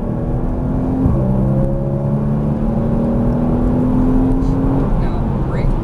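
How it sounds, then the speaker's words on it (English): Porsche Cayman S engine pulling hard on a track, a steady loud drone with a rising tone that drops back briefly near the start, then holds under a constant rush of road and wind noise, with talk running over it. "straighten out the wheel and squeeze the throttle again"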